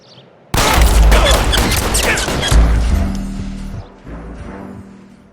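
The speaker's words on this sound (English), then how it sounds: "All units, shots fired, officer needs help." Sudden loud burst of rapid gunfire in the L.A. Noire video game, a volley of sharp cracks in quick succession that thins out into scattered shots and ringing echoes.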